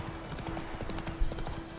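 Horse hooves clip-clop in The Witcher 3 game, a quick steady rhythm of soft thuds at moderate distance, running continuously with one slightly louder hit near the end.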